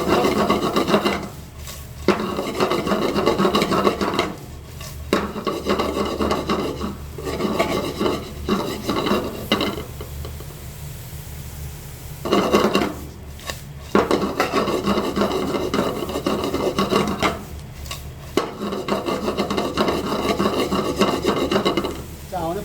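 Bean sprouts being stir-fried in a pot for a large batch of kelp and seafood stock make repeated bursts of rough scraping and rustling, near and loud, separated by short pauses.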